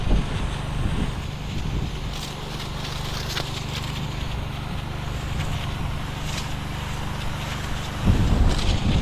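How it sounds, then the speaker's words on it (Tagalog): Steady wind roars and buffets across the whole stretch, a low rushing noise that swells into a stronger gust near the end. No voices. "Mahangin, no?"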